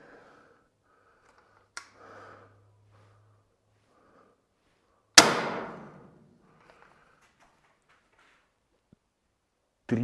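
A single sharp crack from a Cobra R9 dart blaster firing after a power upgrade, followed by a short decaying rattle. The room is otherwise quiet, with a few faint knocks around it and another abrupt hit at the very end.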